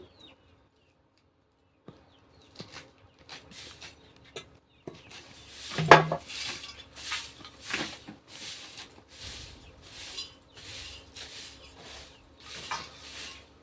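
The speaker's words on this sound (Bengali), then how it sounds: "এই যে আমি এইভাবে শাকগুলো কেটে নিচ্ছি" A knife chops helencha greens on a cutting surface with a run of short, crisp, fairly regular cuts. The cuts come close and clear after a quiet start with a few scattered knocks.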